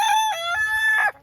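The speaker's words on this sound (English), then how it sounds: "That's our rooster that just decides to crow all day long." A farm rooster on a homestead crows nearby, one loud, clear, drawn-out call that rises and falls before breaking off abruptly.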